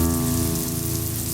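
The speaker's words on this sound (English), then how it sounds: "It is a rainy day in Hue." Steady rain falls on a rainy day in Hue, Vietnam, a dense, even hiss of drops on surfaces that stays loud and constant throughout, with no voices over it.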